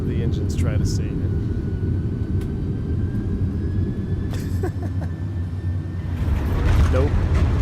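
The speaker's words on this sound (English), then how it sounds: "Listen to the engines try to save it." MD-11 jet engines in the X-Plane flight simulator straining during a heavy-rain approach over water, a steady loud low roar with rising whine, under rain noise and brief talk.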